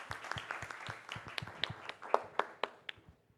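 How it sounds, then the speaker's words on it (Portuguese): Scattered audience applause at an adventure tourism certification talk in Brazil, a thin crowd of distinct, sharp claps in an uneven rhythm that thins out and fades toward the end. "uma salva de palmas a vocês dois"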